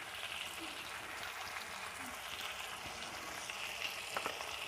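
Ginger and garlic paste sizzles in hot oil in a pan while pork is being cooked, a soft, steady frying hiss with a few faint pops and stirring sounds.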